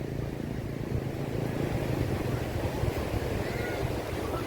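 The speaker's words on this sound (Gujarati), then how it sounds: "અત્યારે પાણીના ફૂલ મોજા મારે છે" Steady roar of surf and rushing water at Dandi Beach, Navsari, with wind buffeting the microphone, continuous and loud throughout.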